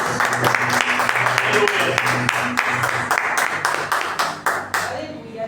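Congregation clapping during a church worship service praising Jesus, a steady run of many hands close by, with a voice speaking over the clapping and a low sustained tone underneath.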